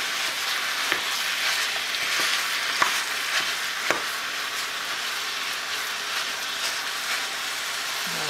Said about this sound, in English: brown the whole thing, or half brown it, but it has to be less pink than brown.